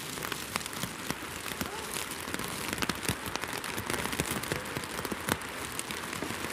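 Steady rain patters on surfaces outdoors at a market, a dense continuous hiss with scattered sharper drops and no clear voices.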